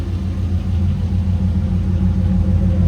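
A 2002 Chevrolet Corvette Z06 engine idles with a deep, steady exhaust rumble, low and continuous throughout, with no talking.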